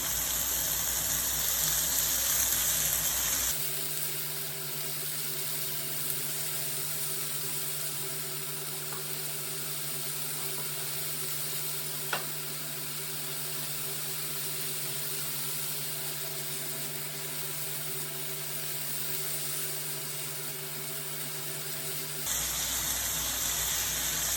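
The rest of the garlic and tomatoes tipped into a hot pan for lazy cabbage rolls bursts into a steady sizzling hiss that starts suddenly and stays even and continuous.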